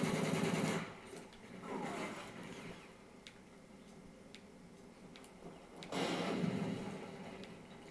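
A Striker weapon fires on rapid fire in a Call of Duty: Modern Warfare 3 match: dense bursts of shots open and close the moment, with sharp, isolated cracks and ticks between them.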